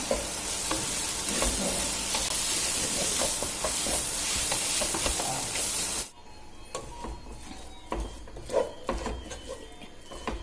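Chopped tomato frying in onion masala, a loud dense sizzle with steady scraping strokes of stirring that drops abruptly to a quieter crackle partway through, no voices.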